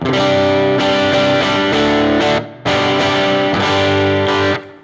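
Electric guitar on the neck pickup through a Supro amp model in HX Edit, chords strummed with a slightly driven, boxy tone in two bursts separated by a short gap, loud and close with no talking.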